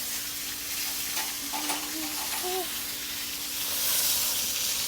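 Salmon fries in a pan with sliced shallots, giving a steady bright sizzle with a few light stirring scrapes, close up and loud, swelling slightly toward the end.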